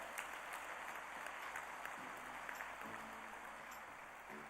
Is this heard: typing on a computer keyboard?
no